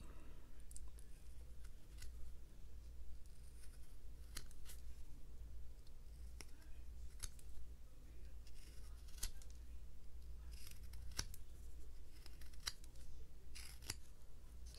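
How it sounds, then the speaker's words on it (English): A knife makes small scoop cuts while whittling a simple wooden wizard figure, producing faint, sporadic sharp clicks and scrapes against quiet background hum. "Do a little scoop cut."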